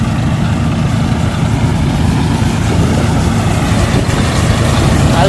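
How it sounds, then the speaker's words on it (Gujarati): A farm tractor idling during a pea threshing job, a steady, low, rumbling engine drone that holds unbroken at close range with no talking. "જો મિત્રો ઓલો ટ્રેક્ટર"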